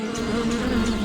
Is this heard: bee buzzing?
yes